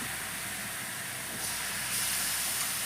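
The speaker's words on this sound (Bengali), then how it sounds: "তো মাংসটা আমি একটু 2-4 মিনিট একটু ভেজে নেব।" Marinated chicken pieces fry in a hot pan, producing a loud, steady, hissing sizzle that swells slightly toward the end with no talking.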